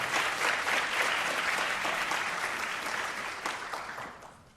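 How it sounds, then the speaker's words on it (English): Audience applause for honorable mentions at a children's writing and reading event, a dense steady patter of clapping that holds for several seconds and then slowly fades. "let's give all of our honorable mentions a proud round of applause."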